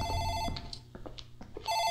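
A morgue telephone rings in the game Dark Fracture, two ring bursts at the start and end separated by a short pause filled with faint clicks and small sounds, near and clear, no voices.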